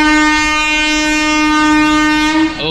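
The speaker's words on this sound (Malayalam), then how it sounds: "ഓ, ഇതൊരു ചരക്ക് ട്രെയിനാണ് സംഭവം." A goods train sounds a long, loud, steady horn blast as it passes a small railway station, the tone sliding and breaking off near the end, heard alone with no talk.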